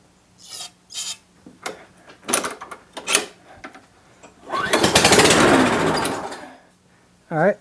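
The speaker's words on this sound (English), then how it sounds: "I just sprayed a little bit of carb cleaner in there and she fired right up." A Craftsman lawn mower sits on a workbench with carb cleaner sprayed in. A series of short scraping and pulling sounds is followed by a brief roaring burst of the engine catching, which fades after a couple of seconds.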